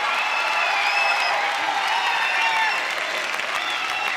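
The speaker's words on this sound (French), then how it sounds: "Applaudissements." A TV studio audience on a French variety show applauds steadily, dense clapping filling the room at an even level from start to finish, with no voices over it.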